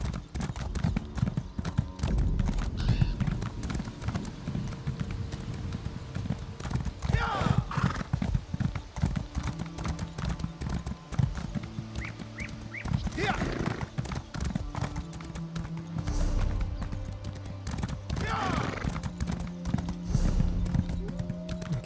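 Hoofbeats of a ridden horse in The Elder Scrolls Online, with a steady galloping clip-clop running throughout, occasional whinnies, and a person talking over it with game music underneath.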